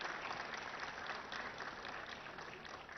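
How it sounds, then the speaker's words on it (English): Audience applause at a corporate event held at ICICI Bank Towers in Nanakramguda, Hyderabad: a dense, steady wash of many hands clapping together, fairly faint and constant throughout. "deserve a huge round of applause."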